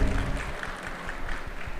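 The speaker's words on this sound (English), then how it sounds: "A big round of applause" A crowd at the Beary Koota 2025 event at Palace Ground, Bengaluru, applauds a company called to the stage, a steady wash of clapping heard from a distance.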